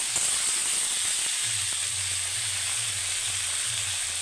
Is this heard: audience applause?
no